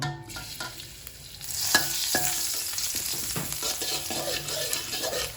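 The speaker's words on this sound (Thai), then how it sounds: "น้ำมันหมูนะครับ นำกระเทียมลงเจียวให้หอมเหลือง" Garlic fries in pork lard over medium-low heat, a dense crackling sizzle that swells after a quiet start, with occasional light clinks of a utensil, close and without speech.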